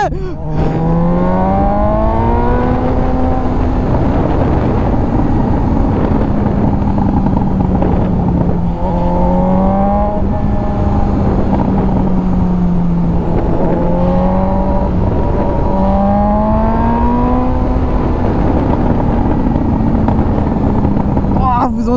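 Suzuki GSX-S 750 motorcycle with its exhaust silencer removed, revving loudly and close in repeated rising and falling sweeps, a harsh raw roar that never lets up, with a voice occasionally over it.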